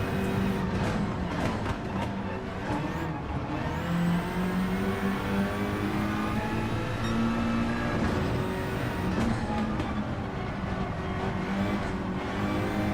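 A Suzuki Swift, a small front-wheel-drive car in the Gran Turismo racing game at Trial Mountain, revs steadily with its engine rising and falling through gear changes, loud and continuous with no talk over it.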